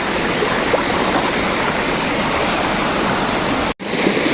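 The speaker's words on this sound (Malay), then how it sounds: "Saya ditolak oleh arus yang agak deras." A fast, deep river current rushes in a dense, loud, continuous wash of water, with rain beginning to fall and no voices over it.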